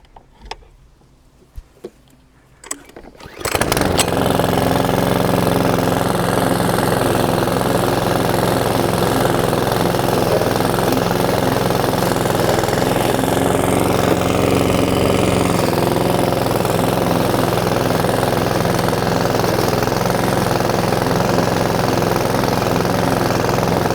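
A Hyundai HYM17150SP self-propelled petrol lawnmower mulching grass on a lawn, starting after a few soft knocks and then running loud and steady for about twenty seconds with a constant engine drone and a grinding blade roar.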